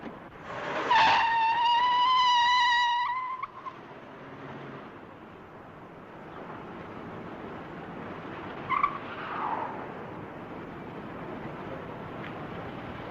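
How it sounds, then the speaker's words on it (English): A stolen car pulls away on a highway patrol chase: a brief high whine or squeal at the start gives way to a steady, rushing engine and road noise that fades and lingers in the distance. "He's driving off now."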